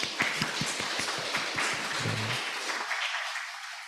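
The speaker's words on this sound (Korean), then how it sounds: "우리 옆에 있는 분들을 박수로 환영했으면 좋겠습니다" A church congregation at a Korean Sunday worship service in Darmstadt claps in welcome. The scattered hand claps go on for about two and a half seconds, then trail off into quiet.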